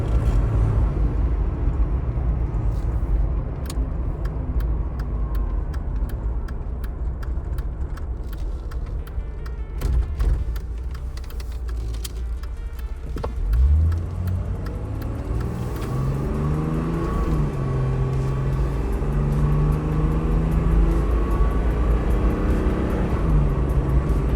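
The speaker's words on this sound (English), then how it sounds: "It's an honest old-school turbo diesel without a DPF and complicated electronics." A 1993 Mercedes G 350 GD Turbo W463, an ex-Belgian Army turbo diesel without DPF, drives with a loud, steady engine drone, rising and falling as it shifts and accelerates, close to the microphone.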